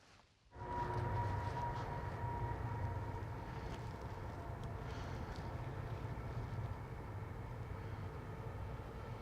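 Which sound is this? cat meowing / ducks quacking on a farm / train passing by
train passing by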